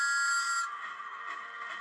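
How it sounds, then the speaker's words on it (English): A cartoon steam engine's high, sustained whistle toots briefly, then fades into a softer lingering tone; quiet and alone, with no talking. "He tooted his whistle"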